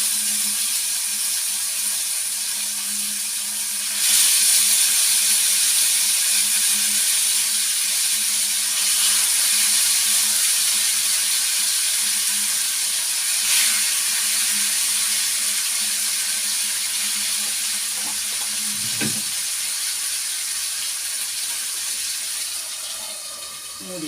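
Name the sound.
frying masala with green peppercorns in a covered pan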